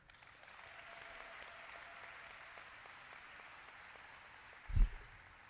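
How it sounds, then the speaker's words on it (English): A graduating class applauds in a large ceremony hall, a steady distant wash of clapping that stays fairly faint, with one louder thump near the end. "So give yourself a huge round of applause, guys."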